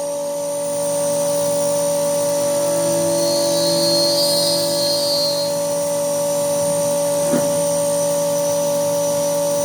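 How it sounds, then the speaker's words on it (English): A CNC machine cuts bolt holes for a center roller in an anchor locker part held on a vacuum fixture, giving a steady droning hum with tonal whine that stays loud throughout, plus a brief tick near the end. "Now doing the bolt holes for the center roller."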